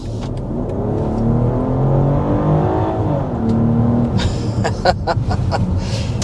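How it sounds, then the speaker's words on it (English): A 2025 BMW X5 xDrive40i luxury SUV with its base powertrain accelerating hard, the engine rising in a loud, steady surge of revs that climbs through a gear change and keeps pulling, heard from inside the cabin with no talking. "there's a quick jab of the accelerator in the X5 40i"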